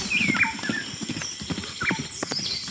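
A horse's hooves clip-clop in a quick, steady rhythm, close and clear, with a short whinny breaking through twice in an animated fairy tale scene.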